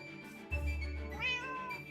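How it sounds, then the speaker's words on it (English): A Minecraft cat lets out a close, clear meow with a rising then falling pitch, heard alone over a faint background. "I visited all my cats one last time"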